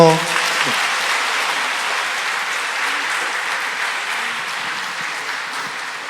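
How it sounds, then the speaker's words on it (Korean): A church congregation at Sunday worship gives steady applause for a child's Bible memorization, even clapping that starts just as a brief voice ends and continues without break. "박수 한번 쳐주세요"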